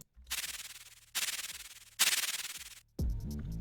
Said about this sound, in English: it sounds like a money machine or something that just plays 3 times in a row